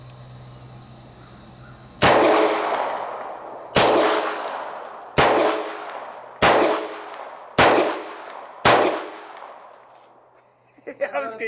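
Cobray M11 firing single shots at an outdoor range, six sharp, loud reports spaced about one to one and a half seconds apart, each fading out in a short ringing echo, with faint metallic tinkles of ejected brass.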